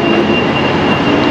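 Jakarta-Bandung high-speed train at a station, a steady loud rumble and hum filling the whole stretch with no break, no voices over it.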